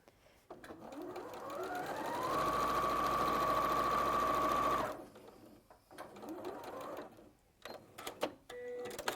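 Sewing machine running a quarter-inch seam while quilting, a steady whirring burst of about two and a half seconds that speeds up then cuts off, with quieter handling noises before and after.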